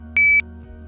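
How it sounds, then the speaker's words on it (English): A Philips Lumify ultrasound app gives a single short, clear electronic beep confirming a saved loop, lasting about a quarter second over a faint background hum. "Once you hear the beep, that means your loop has been saved to your exam."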